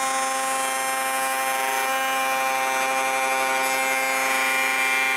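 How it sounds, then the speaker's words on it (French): A router table with a pattern-following bit cuts a wood circle, giving a loud, steady high-pitched whine with strong harmonic tones that holds unbroken for the whole stretch, with no talking. "je vais à la table de toupie, et avec une mèche à copier, je coupe le cercle"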